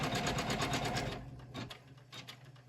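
A Janome MC500e embroidery machine runs with a fast, steady mechanical stitching rhythm, loud and close at first, then lighter and more intermittent; the machine has a suspected internal fault.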